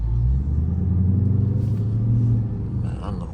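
A Dodge Charger R/T's engine rumbles steadily from inside the cabin while driving, a loud, low drone that eases slightly near the end, with no talking.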